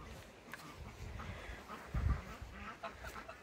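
Startled geese honk and squawk under a tree on grassy ground near hens, a faint, scattered flurry of calls over steady background noise.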